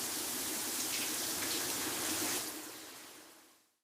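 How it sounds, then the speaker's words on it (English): A shower runs in a steady, close hiss of falling water, holding even for a few seconds before tapering off into silence. "I take a shower."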